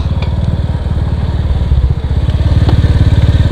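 Motorcycle engine running close by in a steady, rapid low putter with a faint metallic clatter, slightly revving up partway through, with no talking.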